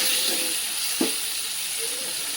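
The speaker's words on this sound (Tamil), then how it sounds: "இப்போ நம்ம உப்பு போட்டு நல்லா கிண்டி விட்டுக்கலாம்." Tomatoes and salt frying in a pan for chicken gravy hiss in a steady sizzle, with a single sharp clack of a stirring spoon against the pan midway.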